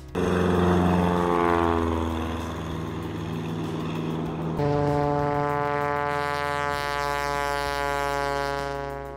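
Small propeller plane flying over remote Alaska, a loud, steady droning engine hum with strong harmonic tones that shift in pitch midway as it passes, continuous and fairly close.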